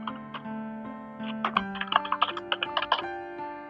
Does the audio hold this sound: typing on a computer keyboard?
yes